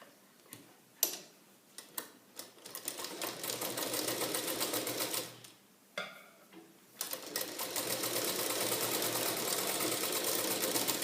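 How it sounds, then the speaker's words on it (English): Close, steady sewing-machine stitching on the underbust dart of a lined blouse, with a rapid ticking rhythm that runs in long stretches broken by a couple of short pauses, no voices. "So now start stitching the underbust dart."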